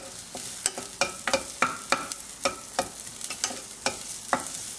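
Garlic sizzles in a pot on the stove for carrot and tomato soup, with a steady frying hiss punctuated by repeated sharp scraping strokes of stirring at a close, moderate level.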